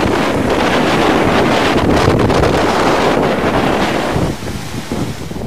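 Strong typhoon wind from Super Typhoon Yolanda in Bohol roars steadily across the microphone, loud and buffeting, with surf-like rushing, then eases slightly near the end.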